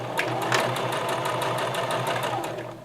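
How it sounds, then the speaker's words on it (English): A sewing machine runs steadily for about three seconds, stitching a narrow 3/8-inch seam on a lined patch pocket, its needle clattering in a fast, even rhythm close to the microphone. "I'm going to sew this seam on a 3/8 inch seam or a 1 centimeter seam"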